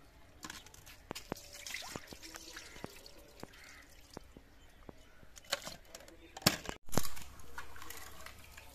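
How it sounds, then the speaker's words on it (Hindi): Chickpeas being washed by hand in water, with scattered splashes, drips and grainy rattles of the chickpeas, and a louder slosh near the end, in a village home setting. "अभी मैं धोने लगी हूँ चने"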